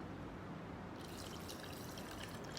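Water pours through a funnel into a clean bottle, making a soft, steady trickle that brightens into a fuller splashing stream partway through, faint and close.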